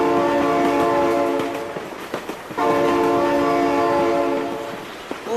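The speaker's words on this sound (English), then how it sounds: "Oh my god, train!" In a truck, car and tractor driving game, a train horn sounds two long, loud blasts separated by a short gap, over the rumble of the passing train.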